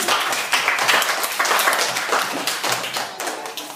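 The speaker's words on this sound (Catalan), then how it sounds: "Li fem un aplaudiment." A school class applauds a pupil who brought his saxophone to the classroom, a steady patter of many hands clapping close by for a few seconds with no talking.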